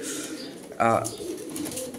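A pet pigeon gives a single short, throaty coo close by, heard amid background chatter from people nearby.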